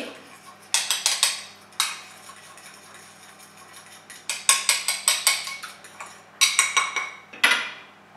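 Oil and mustard being whisked into a dressing for a winter salad with apple and pine nuts, heard as quick bursts of clinking against the bowl separated by short pauses, close and fairly crisp.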